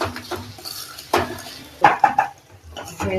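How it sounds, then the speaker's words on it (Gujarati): Boiled corn and peas being mixed in a pan, with a few close, sharp clinks and scrapes of a utensil against metal in quick bursts. "બાફીને હવે આમાં એડ કરી દેવાનું. એને બી થોડાક મિક્સ થવા દેવાના."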